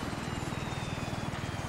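Helicopter rotor noise heard from the open door during a parachute jump over Bornholm: a dense, steady, rhythmic thudding roar with strong wind rush, loud and close, with no talking.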